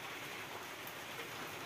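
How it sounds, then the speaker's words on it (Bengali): Rain falling steadily around a village yard, making a continuous even hiss of drops close by, with a single sharp tick near the end and no talking. "এখন বৃষ্টি পড়ছে"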